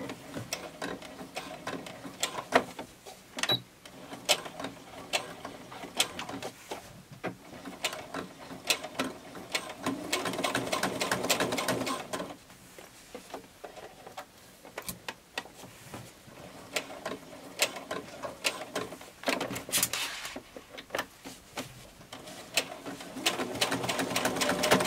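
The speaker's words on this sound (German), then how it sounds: "Hier fange ich an, verriegeln, ganz drumherum nähen, am anderen Ende der Wendeöffnung aufhören und hier wieder verriegeln" A sewing machine runs in steady mechanical bursts as it stitches all the way around a fabric organizer, with a rapid rattling needle rhythm, brief pauses between runs and no voices.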